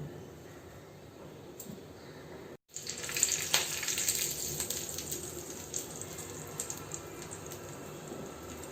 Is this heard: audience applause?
no